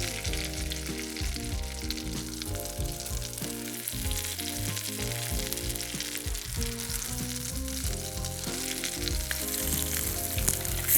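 Salmon fillet for soy ginger salmon sizzling in a hot frying pan, a steady crackling hiss running continuously beneath loud background music.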